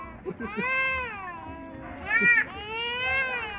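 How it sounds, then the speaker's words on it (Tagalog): A cat meows several times nearby, drawn-out wavering cries with one louder, higher call in the middle, in a quiet setting without talk. "Parang pusa eh, no?"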